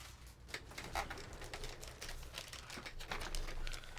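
Plastic bag crinkling as keyboard keycaps are bagged up, with soft irregular rustles and light clicks of the caps shifting, close and fairly quiet, no talking.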